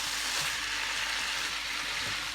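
Beef tripe with potatoes being stirred and fried in a pan makes a continuous broad sizzle, close and even in level, with faint scraping underneath and no voices.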